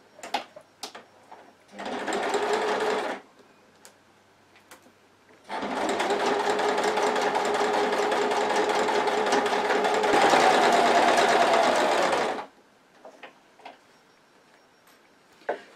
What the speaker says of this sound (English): Okay, so I'm going to stitch those together now.